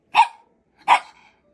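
A dog barks twice, sharp and close, with a short pause between the barks and quiet otherwise.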